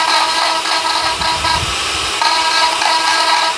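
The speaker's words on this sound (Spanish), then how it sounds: "Estamos aquí poquito a poco con la punta de la broca." A drill bit bores slowly into dry wild olive deadwood, giving a steady, close, whirring grind with a rough scraping texture throughout.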